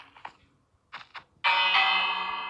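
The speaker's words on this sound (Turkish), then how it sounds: "Çanı çalayım" A village bell in Minecraft rings out in one bright, sustained strike that slowly fades, following a few short vocal sounds.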